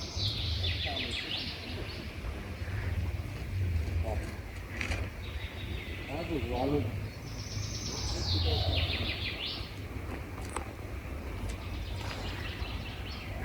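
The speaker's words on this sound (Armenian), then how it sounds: "Լսեք թռչունների ձայնը" Birds chirping and singing in a dendropark forest near Stepanavan, a steady scatter of faint high calls over low background hum and distant voices.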